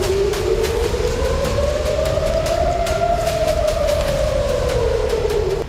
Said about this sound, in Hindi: तेल अवीव में भी शनिवार रात को खतरे का सायरन बजता रहा